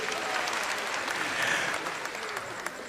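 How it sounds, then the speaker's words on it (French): An audience claps for the governor in a short, steady burst of applause that stays at an even level throughout. "Applaudissez pour monsieur le gouverneur, s'il vous plaît."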